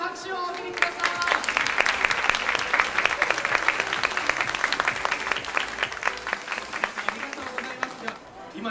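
Loud, dense applause from a large audience at a televised charity stage show, welcoming a keyboard performer with Down syndrome onto the stage; steady clapping runs throughout with a voice audible in places.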